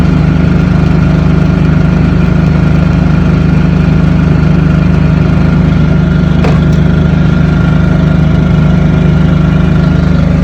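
A Vitals DHP-50 portable diesel heater running indoors to warm a shop and storage room, giving a loud, steady, unbroken motor-and-burner drone with a deep hum and no voices.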